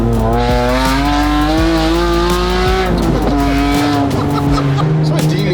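A Ferrari V12 build car drops to second gear and accelerates hard, its engine wailing loud and close with strong rising tones and a shift partway through, with brief talk.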